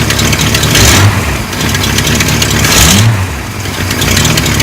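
A V8 engine swapped into a Chevrolet Vega revs loudly and close, rising in two strong surges over a rough idle, with no talking.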